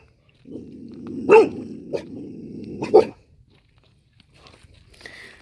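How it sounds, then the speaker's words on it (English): A dog named Midnight growls low and continuously for a few seconds near a lake, with two sharper bark-like bursts inside the growl, then quiet. "Midnight's got her daddy's growl."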